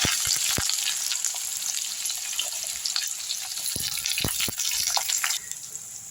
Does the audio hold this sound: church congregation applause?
no